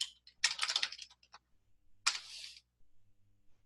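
Typing on a computer keyboard during a C# programming lesson, two quick bursts of close, crisp key clicks separated by a short pause, set against near silence.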